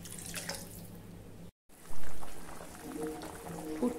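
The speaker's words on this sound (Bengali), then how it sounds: "আমি আরো কিছুটা জল দিয়ে দিলাম।" Water poured into a pan of fried spices and vegetables for a fish curry, a brief splash and rushing pour after a short pause, then quieter bubbling.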